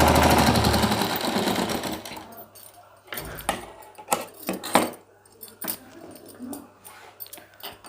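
A sewing machine runs steadily at first while stitching the belt onto a six-panel petticoat, then stops, giving way to scattered clinks, rustles and handling noises.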